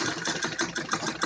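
A sewing machine runs a straight stitch along a fabric strip for a child's romper, a close, steady, rapid mechanical whirring pulse with no pause.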